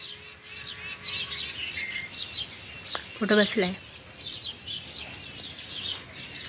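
Asian koel calls repeat throughout, bright chirps in the distance, in the morning near a jamun tree, while a person speaks briefly in the middle.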